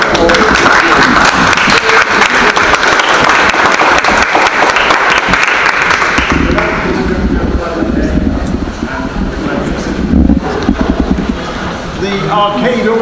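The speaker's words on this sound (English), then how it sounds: "Can I ask you to also give Nisha a round of applause?" An audience gives a loud, sustained round of applause during a public event in a Victorian-era arcade in Cardiff. The clapping is dense at first and then thins out. Murmuring voices and other crowd sounds continue underneath it.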